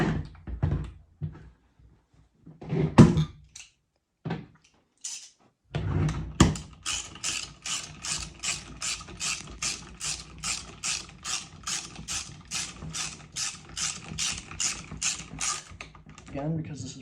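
A plastic concentric selector mechanism clicks as it is turned, first a few scattered clacks and handling knocks, then a long run of rapid, evenly spaced ratcheting clicks, close and crisp.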